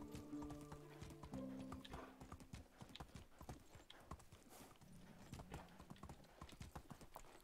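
Horse hooves clip-clop steadily on the ground in the medieval survival game Medieval Dynasty, an irregular rhythmic stream of close hoofbeats with a whinny near the start and faint tonal music in the background.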